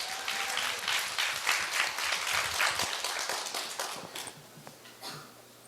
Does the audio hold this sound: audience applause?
yes